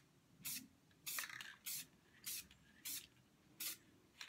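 Short bursts of aerosol spray hiss, six or seven evenly spaced puffs about half a second each, close up with quiet pauses between.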